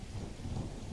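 Steady drizzling rain in the game Without a Dawn makes a soft, even hiss of falling drops, faint and continuous with no voices.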